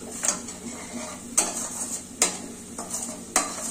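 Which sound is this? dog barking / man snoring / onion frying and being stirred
onion frying and being stirred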